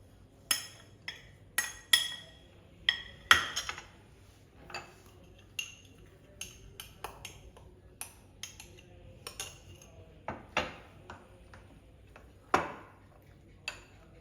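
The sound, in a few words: stirring oat cake batter in one direction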